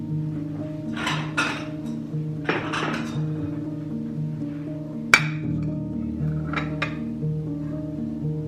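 Plates clink and clatter as a holiday dinner table is set, with several sharp ceramic knocks and scraping touches spread out amid quiet pauses, close and crisp with no talking.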